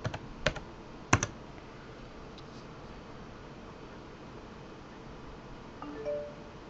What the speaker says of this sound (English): So let me type my password.